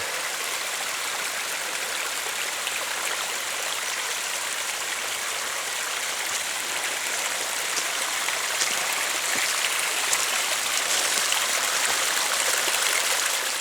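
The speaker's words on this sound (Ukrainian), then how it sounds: "Прямо із скелі, із скелі тече водопад." A waterfall spills off a rock into a Finnish forest stream, a steady, full rushing hiss of water that holds constant and fairly close throughout, with no voices.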